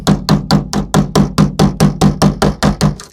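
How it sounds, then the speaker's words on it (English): A small flat-ended hammer panel beats creases out of rusty car bodywork over a wooden block used as a dolly, sounding as about fourteen sharp metallic strikes in a steady, even rhythm, close and loud with nothing else heard. "we've got a little hammer with a flat end on it"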